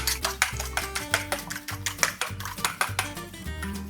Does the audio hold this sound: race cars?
no